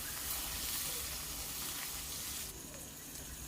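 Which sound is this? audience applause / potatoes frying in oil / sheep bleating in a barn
potatoes frying in oil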